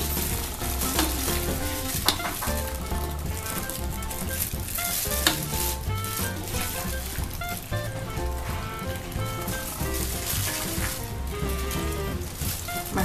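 Oyster mushrooms and shrimp stir-fry in a pan with a little water, salt and palm sugar, giving a loud, continuous, close sizzle with stirring and no speech.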